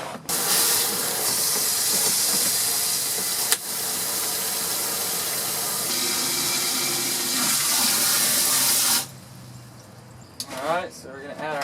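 Water gushing into a bucket to mix bleach for sanitizing microgreens trays, a loud continuous hissing rush for about nine seconds that cuts off, followed by a voice speaking.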